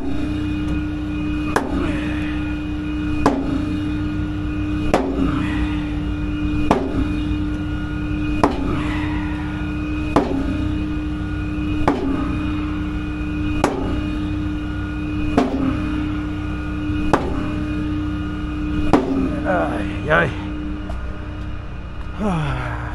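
Metallic hammer blows strike at a steady rhythm, roughly one every one to two seconds, over a constant engine-like hum, while working on a car's electronic parking brake.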